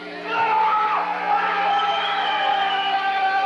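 A live crowd at the Iowa Beef Experience event, 1989, cheers and shouts in a sustained, loud roar that holds steady throughout.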